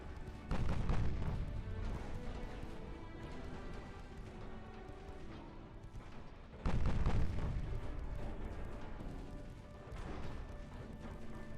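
Warship guns fire in the Ultimate Admiral Dreadnoughts naval battle game, two heavy booming salvos several seconds apart, each a deep rumbling blast that rolls away over a steady background of battle noise, with no talk.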